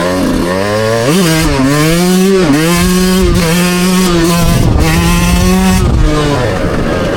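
A 2024 Yamaha YZ125X two-stroke dirt bike with a Stic Super Torque X2 carburetor screams through the gears, its loud, close engine pitch climbing sharply, dropping at each shift, then climbing again several times.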